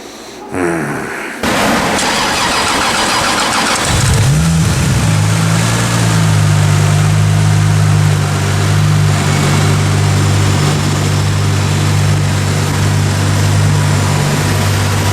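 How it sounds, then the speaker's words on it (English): A 2JZ-swapped Toyota Supra MKIII on a dyno cranks over and fires up, then settles into a steady, loud, droning idle that runs on uninterrupted. "and then we start it back up and try it again."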